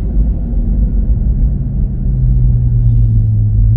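A car passing nearby outdoors, a loud low rumble that builds and steadies into a deeper engine drone, with no talk over it.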